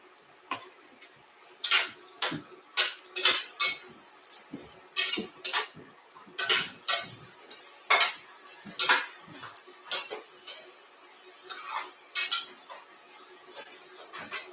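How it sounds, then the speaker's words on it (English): A spoon stirs crispy artichoke pasta with red pepper in a pan, producing a string of close, bright metallic clinks and scrapes in an uneven rhythm against a quiet background. "I guess I should give this a stir, huh?"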